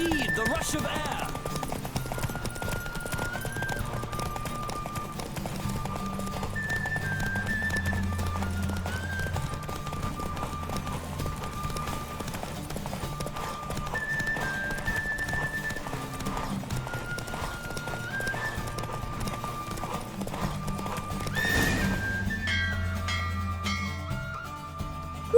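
Galloping hooves pound on without letup as a horse races in The Witcher 3 at Vegelbud's Residence, loud and near under a music score, with a neigh and occasional spoken lines, fading at the end.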